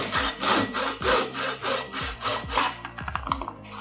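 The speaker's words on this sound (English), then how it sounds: "I have to cut it through to the middle in here with this hacksaw" A hacksaw cuts through a roughly 2 cm part for a hidden mountain bike light setup, giving steady back-and-forth rasping strokes about twice per second, close and loud, with no voices.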